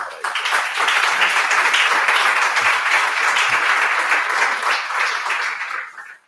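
An audience at an archaeology lecture on Tutankhamun claps loudly for two speakers being welcomed, a full, even roar of applause that holds for several seconds, then quickly fades out at the end.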